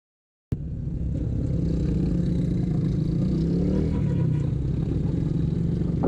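A motorcycle engine runs loud and close on a mountain road between Balakot and Shogran in Pakistan, starting abruptly and holding a steady, rumbling drone with slight pitch shifts as it passes.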